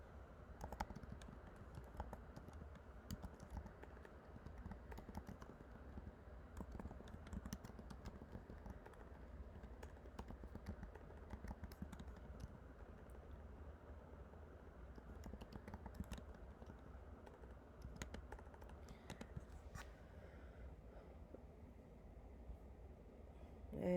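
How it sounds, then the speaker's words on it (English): Continuous keyboard typing on a computer keyboard, steady soft clicking throughout at low level with faint background hum, no talking. "I'm going to type it."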